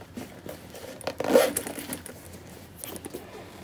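A zipper on a new Coach bag is pulled once, a brief, quiet rasp in the middle of a near-silent stretch with faint handling rustle around it.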